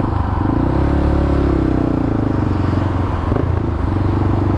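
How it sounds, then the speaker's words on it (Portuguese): Honda CB 300 motorcycle engine held at high revs under hard acceleration, a loud continuous droning roar with rattling, close to the rider. "Acelerando em alto"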